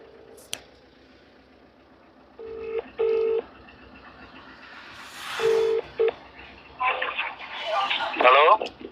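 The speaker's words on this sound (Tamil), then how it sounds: "கஸ்டமருக்கு நம்ம இப்போ ஃபோன் பண்ணிடலாங்க." A phone call is placed to a customer: short dialing tones and beeps, then repeated ringback tones, with someone speaking quietly between them and some rustling noise near the end.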